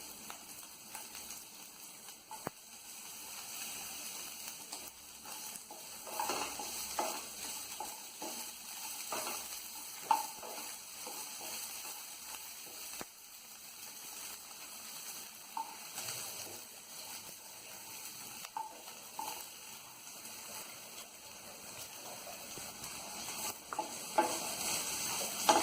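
Grated coconut and chopped ginger fry in a pan for chholar dal with vegetables, giving a steady, moderate sizzle broken by repeated scraping stirs of a spoon, with no voices.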